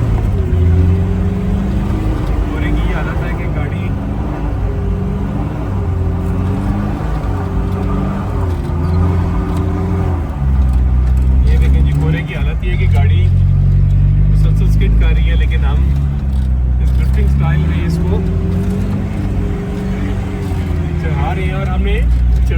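A 4x4 jeep's engine labors uphill on a snowy, foggy night road in Murree, a loud continuous rumble with shifting revs, while people talk throughout over the motor.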